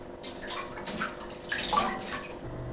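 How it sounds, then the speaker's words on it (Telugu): Water drains steadily from freshly washed spinach tipped into a colander, a continuous close splashing and trickling rush with no talk. "ఇలాంటి జల్లు దాంట్లో వేసేసుకుంటే నీళ్ళన్నీ కిందకి వెళ్ళిపోతాయి అన్నమాట"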